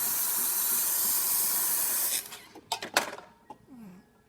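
Loud steady steam hiss from the wand of a Jura Impressa J5 coffee machine for about two seconds, then it cuts off, leaving a few clicks and knocks.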